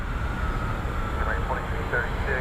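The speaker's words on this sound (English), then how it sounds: "JetBlue 540 lining up for departure" A jet airliner lining up for departure at Cleveland airport gives a steady, loud, broad engine rumble with a faint whine, and a voice is heard over it.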